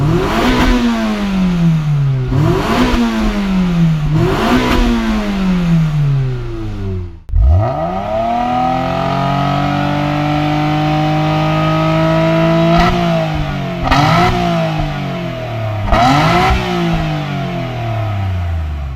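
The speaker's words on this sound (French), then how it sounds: "parce que le moteur prend des tours" A 1994 Toyota Celica GT with a 2-litre 16-valve four-cylinder engine revs hard and close up. Repeated rising and falling pulls are followed by a long sustained high rev and then more short blips. The engine runs alone with no talk.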